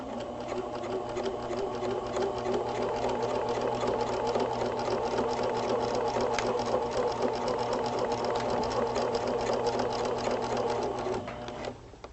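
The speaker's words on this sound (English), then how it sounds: "once you've sewn across the two pieces of fabric" A sewing machine runs fast and steady, stitching across two pieces of upholstery fabric for a headboard, a loud, even mechanical whirr with rapid ticking that slows and stops at the end.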